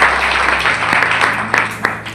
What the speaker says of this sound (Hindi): क्या ताली बजाएंगे?